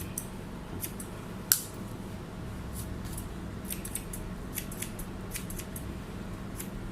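Scissors snipping the ends of hair during a haircut, with repeated light, crisp cuts in an irregular rhythm over a steady low background hum; one sharper, louder snip stands out early on and no one speaks.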